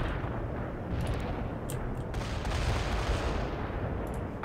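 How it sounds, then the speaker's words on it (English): Artillery strike in the real-time strategy game World in Conflict: a dense, continuous rumble of distant shelling and gunfire, with a few sharper cracks, at moderate level and no talk. "Artillery strike on the way."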